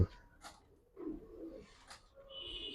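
A pair of red-necked Giribaz pigeons cooing softly in a few separate, close calls with short pauses between, alone without talk.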